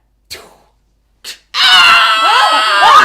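A voice imitates a half-elf screaming while a kobold carries her off during a tabletop fantasy role-playing game. Two brief breathy sounds come first, then a loud, sustained, wavering scream fills the rest.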